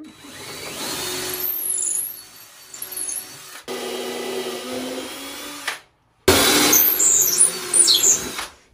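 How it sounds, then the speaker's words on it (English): A drill fitted with a 9/64 bit bores into a vintage sailboat during a refit, with several steady whining runs of a few seconds each, broken by brief pauses and a sharp screeching final burst. "It looks like you're just drilling into Justin's hand."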